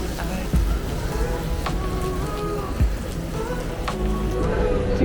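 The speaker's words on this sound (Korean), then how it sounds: "근데 비가 오니 굉장히 날씨가 쌀쌀합니다" Steady rain pattering outdoors at the Genting outlet in the highlands, a dense continuous hiss of drops on surfaces with scattered louder splashes and faint distant background noise.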